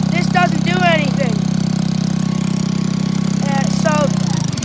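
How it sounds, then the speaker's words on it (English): The small engine of a homemade tractor contraption runs at a steady, high-revving drone with a broken throttle, loud and close throughout, while people talk over it. "It revs really high, and when you hit the throttle here, this doesn't do anything."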